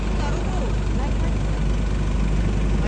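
A constant low engine drone and rumble fills the cabin of a passenger plane at Sofia airport, Bulgaria, steady and close throughout, with faint voices mixed in.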